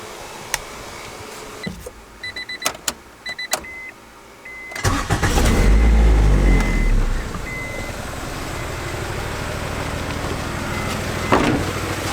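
A Honda Integra engine cranks with a brief whirring starter, catches and roars up loudly, then settles into a steady close idle, preceded by scattered clicks and switch beeps.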